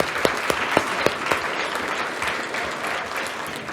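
An audience at a panel on public land recreation breaks into steady applause, a dense wash of clapping with a few sharper claps standing out near the start, holding at an even level throughout.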